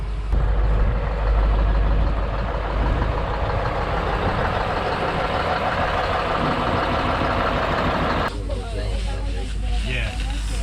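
Vehicle ride up to a glacier in Iceland, a steady loud low engine drone with rumbling throughout, ending in a brief shift in tone near the end; voices are heard over it.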